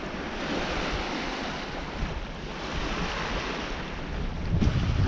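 Steady wind and surf while sailing downwind along a coast in about 18 knots, a continuous broadband rush with wind buffeting the microphone, swelling slightly louder near the end; no voices.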